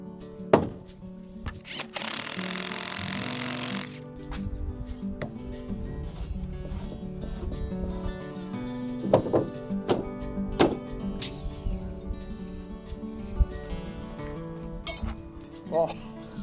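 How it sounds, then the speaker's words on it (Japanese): An impact wrench sets washers into the floor framing of a newly built American-style wooden house with 24 mm plywood subflooring. It fires in a loud sustained burst of a few seconds and a shorter later burst, with knocks, tonal background sound and voices. "どうしてもこのインパクトレンチがいるんですよね。"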